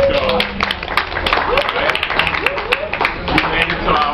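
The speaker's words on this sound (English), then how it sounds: "give yourself a round of applause" A crowd at a hall of fame induction night claps in dense, sharp bursts, loud and close, with voices and shouts running over the applause throughout.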